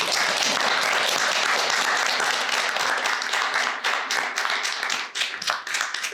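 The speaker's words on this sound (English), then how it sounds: "I think a round of applause is warranted here." Applause for the final three contestants at a game-show jury session, dense clapping from a small group that holds steady, then thins into scattered individual claps toward the end.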